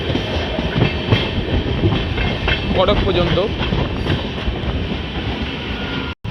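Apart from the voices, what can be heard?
MEMU special train departing station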